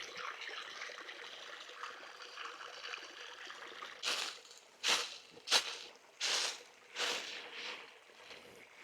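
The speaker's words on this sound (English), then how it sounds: "Got a small little cascading stream here." A small cascading stream flows along a mountain bike trail with a steady watery rush, then several louder bursts of splashing or rustling stand out in the second half.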